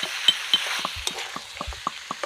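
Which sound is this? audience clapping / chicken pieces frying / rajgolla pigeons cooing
chicken pieces frying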